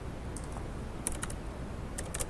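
Fingers tap on a computer keyboard to type a file name while saving, a quick run of light, crisp keystrokes in small clusters, close and alone.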